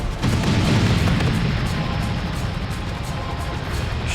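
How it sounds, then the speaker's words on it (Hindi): An explosion sound effect over peaceful Mount Kailash in a mythological drama: a loud, sustained booming roar that sets in suddenly and rumbles on with heavy low-end weight. "शांत कैलाश पर यह विस्फोट की ध्वनि"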